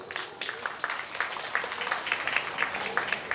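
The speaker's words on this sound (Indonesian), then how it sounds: "Aplaus." A crowd at an Indonesian women's political rally applauds, the dense clapping settling into a steady, rhythmic beat and continuing throughout.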